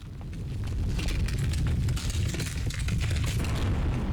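A huge explosion blows up the tower in the video game Alone With You, a dense, sustained rumbling roar that swells in at the start and holds loud for several seconds with crackling debris, no voices over it.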